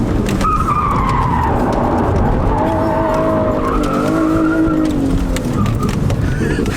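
A small drift car spins out three times and ends up in a ditch. Loud tire squeals sweep up and down in pitch over a continuous engine roar, close and dominant throughout.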